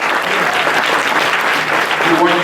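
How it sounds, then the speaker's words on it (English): An audience at a Middle East American legislative night applauds with dense, steady clapping throughout, close and loud, while a voice talks over it. "Let's give them a round of applause."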